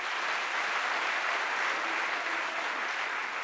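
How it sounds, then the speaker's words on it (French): Audience applause at a political opposition convention, steady dense clapping filling the room throughout without a break and with no talk over it. "je remercie l'assistance pour les applaudir"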